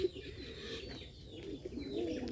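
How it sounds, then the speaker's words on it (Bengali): A Bombay pigeon coos in a loft, its low murmuring call repeating steadily and close by, with a few faint chirps from other birds in the background. "দেখুন কিভাবে কবুতরটা ঢাকাটাই করতেছে বোম্বাই কবুতর"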